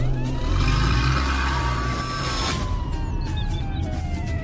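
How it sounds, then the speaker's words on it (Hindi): A police car pulls up to a house in a village, its engine rumbling loud and close beneath a thin siren wail that rises and falls throughout. "तभी पुलिस की गाड़ी सुरेश के घर आती है।"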